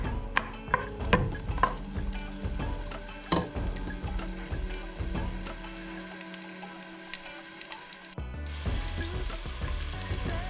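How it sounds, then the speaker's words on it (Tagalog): Garlic sautéing in oil, browning while being stirred, gives a steady close sizzle with scattered clicks of a utensil against the pan, then a short quieter stretch before the frying picks up again. "Igigisa lang natin to para mas lumasa. Hayaan natin mag brown color para mas flavorful ang oil at ang garlic."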